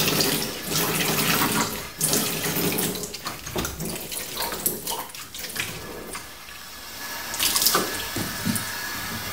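Cold water runs steadily from a darkroom tap into a sink while a silver gelatin print is processed, a continuous close splashing hiss that shifts slightly in tone as the flow is adjusted.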